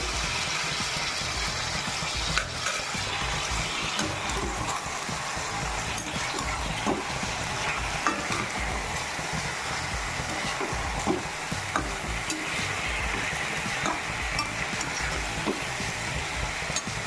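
Ginger garlic paste frying in a pan for chicken curry, giving a continuous dense sizzle with scattered scraping ticks from stirring, steady and fairly close throughout.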